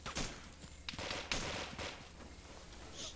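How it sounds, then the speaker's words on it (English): Gunshots crack in an ARMA 3 battle, a few sharp reports spaced irregularly across about three seconds, fairly faint and distant-sounding with quiet background between them. "Shots. Under fire."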